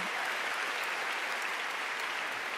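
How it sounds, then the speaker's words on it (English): Steady, dense applause from a large audience at a high school graduation ceremony, sustained and even throughout, heard from within the crowd with no voices standing out. "That deserves a round of applause."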